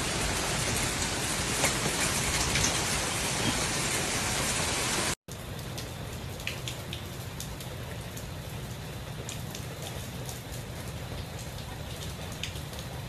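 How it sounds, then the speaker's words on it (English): Heavy rain pours steadily during a historic storm in Sicily, a dense continuous hiss of drops on surfaces with a brief cut midway, then the downpour continues slightly softer; no voices. "Italy is grappling with a severe flooding after days of relentless rain"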